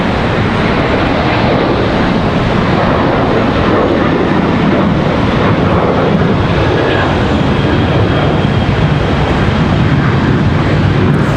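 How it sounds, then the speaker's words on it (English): A CRJ or ERJ regional jet departing Charlotte Douglas airport, its loud broadband engine roar filling the whole stretch steadily and close, with no break or fade. "Another CRJ, ERJ departure before Spirit Airlines."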